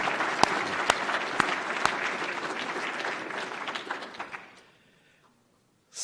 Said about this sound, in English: Well, another round of applause.